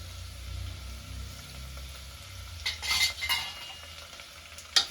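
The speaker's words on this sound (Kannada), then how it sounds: "ಸೊ ನೀಟಾಗಿ ಎಣ್ಣೆ ಎಲ್ಲ ನೀಟಾಗಿ ಮಶ್ರೂಮ್ ರೀಚ್ ಆಗೋ ಥರ ಫ್ರೈ ಮಾಡ್ಕೊಳ್ಳೋಣ" Sliced mushrooms dusted with turmeric frying in oil over a medium-low flame, with a soft steady sizzle and a short burst of stirring scrapes and utensil clinks near the middle and again at the end.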